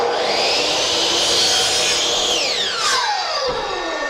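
A saw cuts a 45-degree miter through a piece of wooden window trim, a loud, steady, close rasping that holds for about two seconds and then falls in pitch as the cut winds down.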